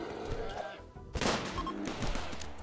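In RimWorld combat, colonists fire guns in a few faint, short bursts of shots against a quiet background.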